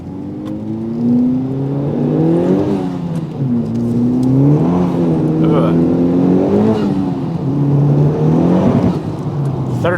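A Mitsubishi Evo 8 accelerating hard through the gears with wheelspin, its engine revving loud and close in rising and falling sweeps over about ten seconds.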